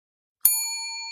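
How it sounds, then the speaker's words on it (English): A single bright bell strike rings out clearly, its metallic tone sustaining and slowly fading after a silent start. "Stop ringing that damn bell!"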